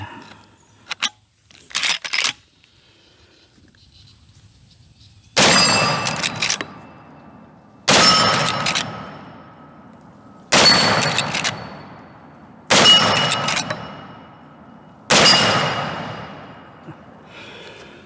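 Five loud gunshots from a Marlin 1895 Trapper lever-action rifle firing .45-70 rounds, each about 2.5 seconds apart with a ringing decay, preceded by a few faint clicks and clacks of loading.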